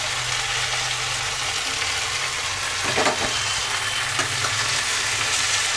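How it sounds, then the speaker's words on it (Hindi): Potatoes and sem beans fry together in a pan, giving a loud, continuous hissing sizzle with a brief burst of stirring midway. "आलू और सेम को हम साथ में ही भून लेंगे।"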